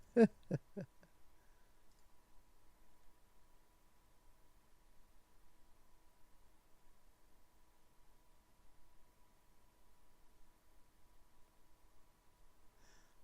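A computer mouse clicks several times in quick succession while selecting on screen. Near-silence follows, with one faint click at the very end.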